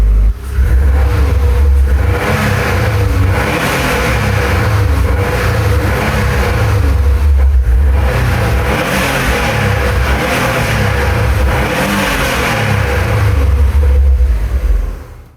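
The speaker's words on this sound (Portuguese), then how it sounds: "O Boxer Turbo do Subaru enchendo o espaço com aquele som inconfundível" A Subaru WRX turbocharged boxer engine revs repeatedly, its loud burbling rumble rising and falling in long swells with a steady idle underneath.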